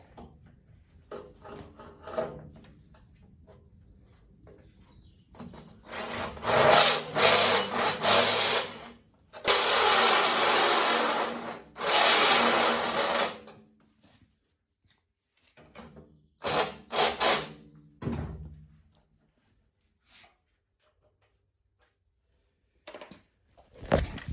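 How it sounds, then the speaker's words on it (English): A power drill with a step bit whirs in several bursts, grinding harshly as it widens an existing hole, with quiet pauses between runs and a few short final spurts. "try and use a step drill"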